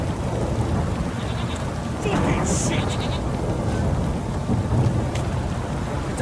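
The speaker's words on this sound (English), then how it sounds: "This downpour's a bastard," Heavy downpour in The Witcher 3, a constant roar of rain with a thunder rumble swelling partway through, while a man curses loudly over the storm.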